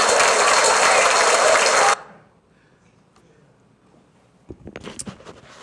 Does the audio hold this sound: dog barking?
no